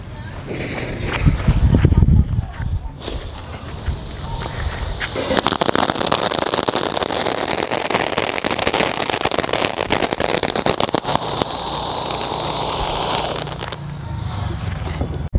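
Voices are heard, then a string of Sivakasi Diwali firecrackers crackles and pops in a rapid, dense burst for several seconds, close by.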